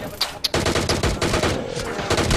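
Rapid automatic gunfire in PUBG Mobile, a few sharp opening shots followed by dense, continuous bursts of loud fire filling the whole short stretch.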